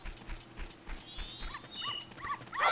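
Small dog from The Legend of Zelda: Majora's Mask on N64 yips and whimpers in short high bursts among chiming game effects, moderately loud with no talk.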